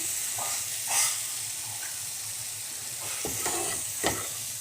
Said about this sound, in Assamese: এইখিনি মই মিক্স কৰি অলপ সময় ভাজি ল'ম